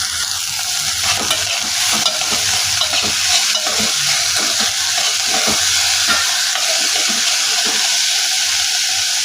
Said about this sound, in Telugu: ఉప్పు కూడా వేసుకొని కలుపుకోవాలి.